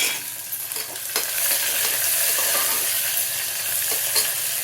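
Chopped onions and curry leaves sizzle in hot oil in a pan for wheat rava pulao, a loud, steady frying hiss close by, broken by occasional scrapes and stirs of a spoon.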